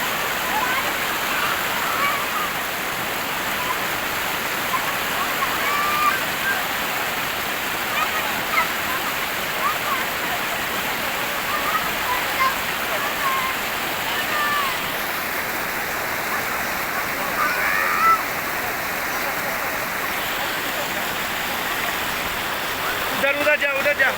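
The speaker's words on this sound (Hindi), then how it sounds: "सकते हो कितना स्पीड में पानी आ रहा है।" A fast, ice-cold mountain river fed by snowmelt near Siachen rushes steadily nearby, a dense, unbroken roar of churning water that holds throughout.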